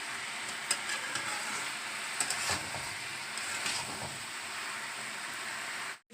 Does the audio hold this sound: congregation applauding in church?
no